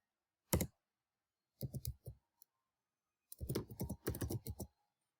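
Several sharp computer mouse clicks, close and dry, while working in SPSS statistics software: one click, a short burst of three or four, a faint tick, then a fast run of clicks before silence.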